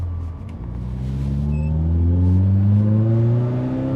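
A BMW M3 E30 Sport Evolution engine revs up while driving, its tone climbing steadily through the gear in a loud, close rising drone, with no talk.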